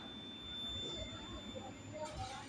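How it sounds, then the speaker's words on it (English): A digital multimeter's continuity beep sounds as a steady, faint high-pitched tone for about two seconds while its probes touch a capacitor and inductor on a phone circuit board, under low room noise. "when you hear the beep, it means that they are connected"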